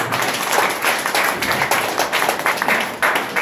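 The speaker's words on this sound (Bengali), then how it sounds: "জোরে একটা হাততালি দিয়ে দাও" Audience clapping at a Bengali health talk on diabetes, a dense burst of fast hand claps, loud and close, running for a few seconds.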